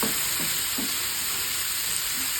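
Tomatoes and spices sautéing in a non-stick pan for fish biryani, a steady close sizzle with a few soft scraping stirs early on and no talking.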